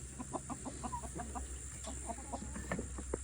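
Hens cluck repeatedly in short, soft bursts, close by, against a steady low hum.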